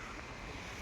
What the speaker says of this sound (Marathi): लाटा समुद्र बघा